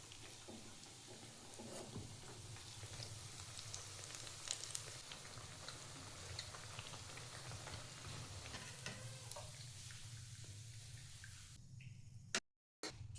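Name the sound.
bread bajji frying in oil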